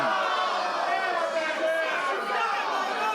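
A wrestling crowd at an independent show roars and chatters in a steady, dense din as a wrestler works to rile it up, with a commentator talking over the noise.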